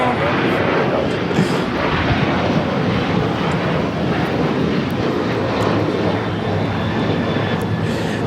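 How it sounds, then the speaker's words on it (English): An Alaska Airlines Boeing 737-900ER jet takes off from Los Angeles LAX, its engines a loud, steady, broadband roar that holds strong throughout. "1412 taking off to Liberia on the 737-900 ER."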